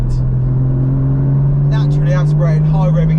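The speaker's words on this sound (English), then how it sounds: "Naturally aspirated, high revving engines, they are just the one for me." A Porsche GT4 with a naturally aspirated, high-revving engine pulls hard, its loud steady drone climbing in pitch as it accelerates, heard close from inside the car while someone talks over it.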